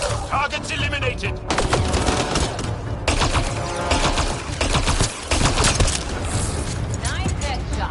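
Loud, rapid bursts of gunfire crackle through a firefight in the PS4 video game Mass Effect, dense volleys with short pauses and voices mixed in among the shots.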